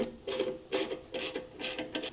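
A socket ratchet turning bolts on a Honda Transalp XL motorcycle, five short bursts of rapid clicking pawl, close and clear with brief gaps between strokes.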